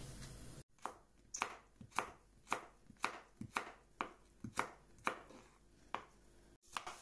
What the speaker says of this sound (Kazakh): Ал енді пиязымызды тураймыз